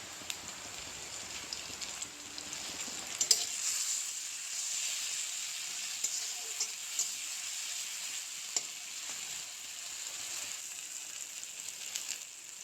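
Green chilli paste sizzling as it fries in a pan, a steady high hiss running throughout with occasional small ticks and pops, fairly quiet and close with no voices over it.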